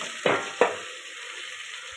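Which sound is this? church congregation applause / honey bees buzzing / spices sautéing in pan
spices sautéing in pan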